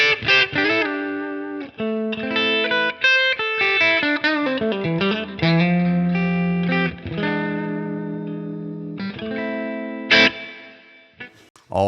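An electric guitar played through a Line 6 Helix with reverb and a touch of LA Studio compressor rings out in sustained chords and picked notes, with distorted, shimmering tails, close and clear, no voices.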